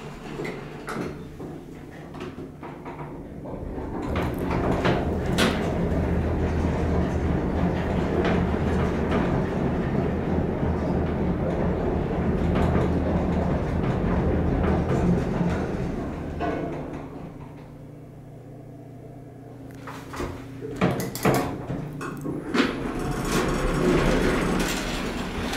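An original U.S. traction elevator at a Myrtle Beach beach resort's south tower runs with a steady, loud rumble and hum, broken by sharp clacks and door-like thumps near the start and again toward the end.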